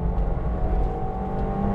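On a racetrack, a McLaren 720S supercar drives flat out, its engine a loud, continuous close-range roar with a steady whining tone running through the short stretch.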